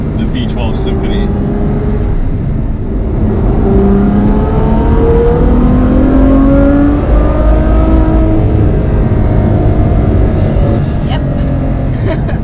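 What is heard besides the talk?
Ferrari F12 Berlinetta V12 engine revving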